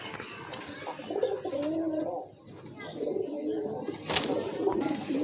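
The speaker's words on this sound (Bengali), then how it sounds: "দেখেন মাশাআল্লাহ কত সুন্দর এক জোড়া কবুতর" A pair of pigeons from a bird seller's collection coo nearby, giving a few soft, rolling, throaty calls in short bursts over a low background murmur.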